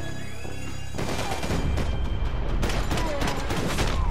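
Gunfire in the video game Max Payne 3, a dense burst of loud rapid shots and booms that begins after a second of quieter music and continues without a break.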